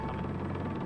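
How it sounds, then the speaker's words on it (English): A helicopter flies overhead during a search for a cheetah inside a wildlife sanctuary in Kenya, giving a steady, fairly loud rotor drone with a low hum for under a second and no voices. "the helicopter is back up searching for the second cheetah"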